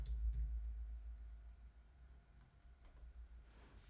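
Computer mouse clicks while building a luxury hair Shopify website, a few faint, sparse clicks over a low hum in a quiet room, with no talking.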